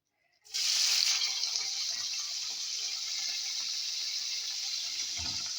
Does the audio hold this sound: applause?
no